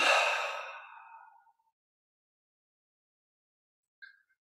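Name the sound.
deep exhale during guided breathing meditation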